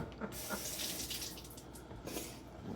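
A vegetable being rinsed under a running kitchen tap, steady close water rush into the sink with slight shifts as the vegetable moves under the stream, no talking.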